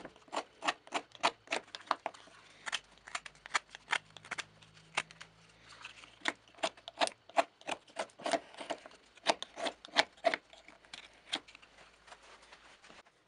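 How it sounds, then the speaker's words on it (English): A pocket knife does rough carving on a wooden knife scabbard, giving a rapid series of sharp, crisp cutting and scraping strokes, close up and steady in rhythm with brief pauses. "I like to do the rough work with a pocket knife."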